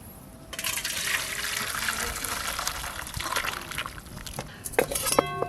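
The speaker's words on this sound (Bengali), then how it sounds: "এবার মাছের ঝোলটা ঢেলে নেব" Fish curry gravy with small pond fish and cauliflower poured from a pot into a bowl, a continuous close splashing gush lasting several seconds, ending with a few clinks of metal or utensil against the vessel.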